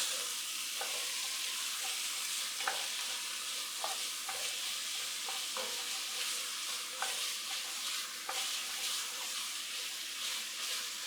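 Ground turkey browns in a pan with olive oil, a soft continuous sizzle under repeated scraping and tapping of a utensil breaking it apart, fairly quiet and without speech.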